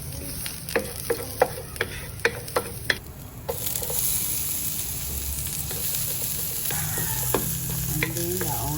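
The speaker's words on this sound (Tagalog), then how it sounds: "So saute the garlic." Garlic sautéing in oil in a pan for humba, a steady close sizzle with a series of sharp spatula taps on the pan at the start, then louder continuous frying with occasional scraping.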